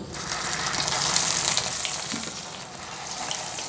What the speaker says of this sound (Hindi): ऑयल हमने गरम कर लिया है। अब हम इसमें टिक्कियाँ डाल लेते हैं।